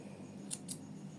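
Scissors snipping crochet thread: two quick, faint, close metallic snips in quiet surroundings.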